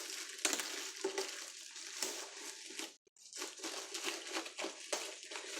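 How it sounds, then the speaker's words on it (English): Plastic packaging being pulled and crinkled off a boxed Audioscape 1176-style compressor unit, a steady close rustling and crushing with brief crackles and a short pause midway. "we're going to get this packaging off of here"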